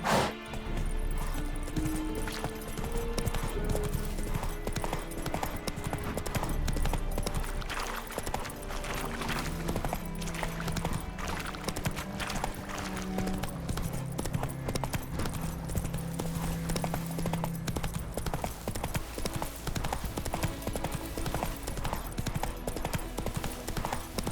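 Horse Roach galloping in The Witcher 3, steady rapid clip-clop of hooves running continuously under game music, with occasional louder impacts and a brief whinny.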